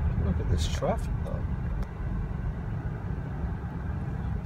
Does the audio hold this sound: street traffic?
yes